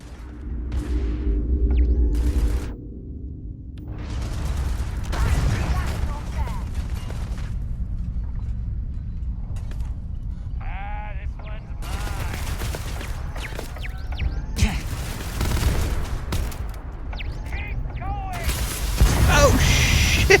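A newly picked-up gun in Starfield fires in loud, repeated bursts and booms, with uneven pauses between them and some talking mixed in.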